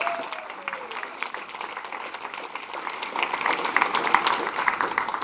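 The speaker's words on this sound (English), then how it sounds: "Please, a big applause to all of them." An audience at a youth adaptation dialogue applauds the organizers of the regional youth adaptation forums, a steady wash of many hands clapping that swells slightly louder toward the end, with faint voices mixed in.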